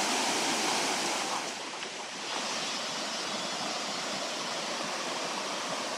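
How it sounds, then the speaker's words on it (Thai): Erawan waterfall, a tiered cascade in a natural forest setting, sends out a steady, dense roar of rushing water. The sound is broad and unbroken, with a brief softening partway through, and no voices are heard. "น้ำตกเป็นชั้นๆเลยดูดี"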